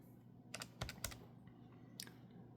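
A handful of soft, scattered keystrokes on a computer keyboard as numbers are entered, faint and close, over a quiet room hum with no talking.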